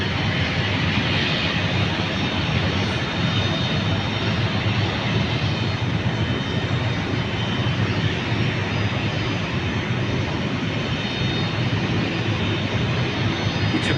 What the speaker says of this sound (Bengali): এটি হচ্ছে একটি বিমান বাংলাদেশ এয়ারলাইন্সটি যাচ্ছে রানওয়ের দিকে, আকাশে উড়ার জন্য প্রস্তুতি নেবে।